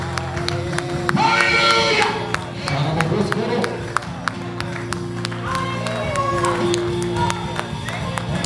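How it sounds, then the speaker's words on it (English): A church congregation clapping their hands in praise, a dense patter of many claps with scattered cheers and voices mixed in, continuous and fairly close. "Somebody clap your hands to give God praise for the word that he just heard."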